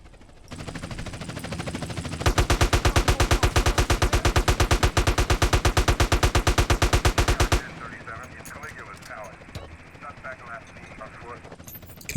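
Assault rifle fire in GTA San Andreas comes as a long, loud, rapid automatic burst of evenly spaced shots lasting several seconds, followed by quieter scattered shots under a voice.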